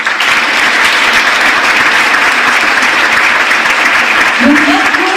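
A crowd at a town New Year's greetings ceremony gives loud, sustained applause that stays dense and even throughout, with a few voices rising faintly near the end.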